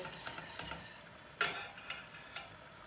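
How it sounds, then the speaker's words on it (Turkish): Tomato paste and tarhana being stirred into water in a pot, a soft, quiet scraping and swishing with a few brief sharper clinks of the utensil against the pot. "Yarısını döktükten sonra şöyle bir karıştırıyorum arkadaşlar."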